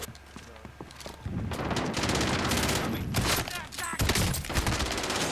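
Shotgun blasts and rapid gunfire in the video game Warzone, a dense, loud barrage of overlapping shots that swells after a quieter opening, with a voice speaking briefly amid the fire.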